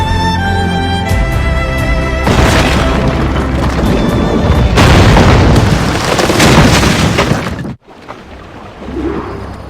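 Ship cannons fire in broadsides during a naval battle in the video game Assassin's Creed Rogue. Loud, heavy booms roll and overlap for several seconds, cut off abruptly, then a softer rumble returns.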